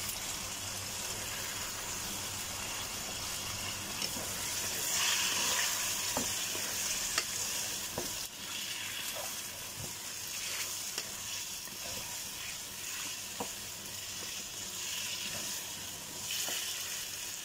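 Winged beans (sigarilyas) frying in a pan, a steady soft sizzle with occasional clicks of stirring throughout.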